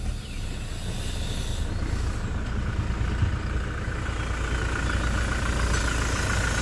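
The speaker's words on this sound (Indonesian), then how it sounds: "Mesin sangat halus, rata, kering." A Toyota Hilux 2018 diesel pickup with a 2GD engine idling steadily, a low even rumble with a faint whine above it, running unchanged for several seconds without speech.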